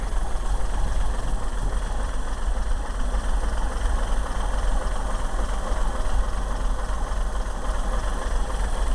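A 1965 International R185 truck engine idles after a cold start, running a little rich, a steady close rumbling drone with an even low throb and no voices throughout.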